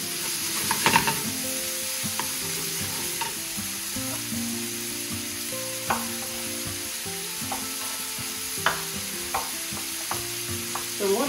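Beef sizzles and fries steadily in a hot pan, a continuous close crackle with occasional sharper pops and spatters, no voices over it.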